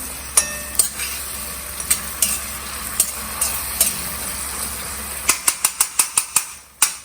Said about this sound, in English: Stir. Saute it nicely.